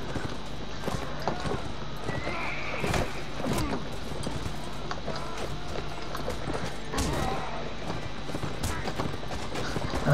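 Horse hooves clip-clop steadily in a melee combat video game, with a brief whinny, thuds and scattered clanks from the action; a faint voice murmurs underneath.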